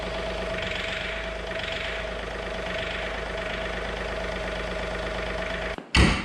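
John Deere 3046R compact tractor running steadily with a snowblower attached, a close, even engine idle with a faint rhythmic pulse as the lift works, cutting off abruptly before a brief loud clunk.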